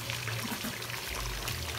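Water running from a rural well (cacimba), a continuous close rushing and pouring wash that stays steady throughout with no talk.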